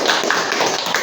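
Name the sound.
applause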